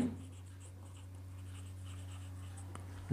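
Pen or pencil writing in a notebook during a class 6 math lesson on number lines: steady, close scratching strokes over a constant low electrical hum, with no one talking.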